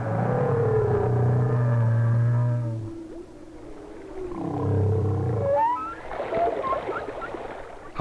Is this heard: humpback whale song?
yes